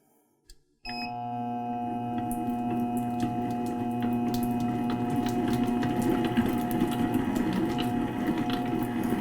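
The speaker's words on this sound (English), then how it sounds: "we're going to fire this up and we need to cream this." An Efficient Kit commercial 7-quart stand mixer creaming brown sugar, white sugar and peanut butter starts after a short click, then hums steadily with a mechanical whine and a soft grinding churn, close and continuous.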